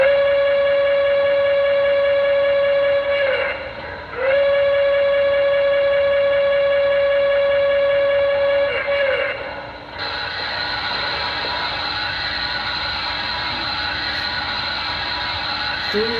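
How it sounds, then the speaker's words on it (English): Sound-effect whistle from a BLI Reading T-1 model steam locomotive, loud and close, blows two long sustained blasts separated by a short break, then gives way to a harsher, steadier mechanical hiss; no talking. "Function 2 is your whistle."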